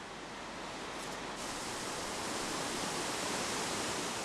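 Steady, dense roar of a waterfall at Mount Geumgang, a broad continuous wash of falling water that keeps one even level throughout, with nothing else heard over it.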